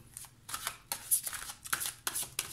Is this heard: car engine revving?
no